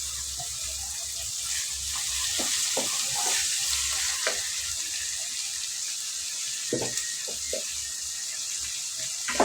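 Onions and tomatoes sautéing in a pan for a dried fish thokku, giving a steady close sizzle with occasional stirring scrapes and clicks throughout, no talking.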